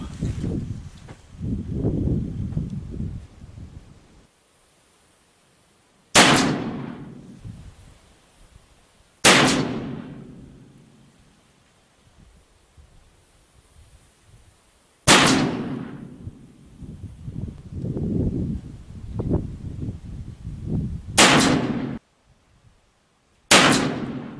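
An Uberti 1862 Pocket Navy replica revolver fires five loud, sharp shots outdoors, each cracking out and ringing off into a fading echo, spaced several seconds apart, with low rumbling wind and handling noise between them.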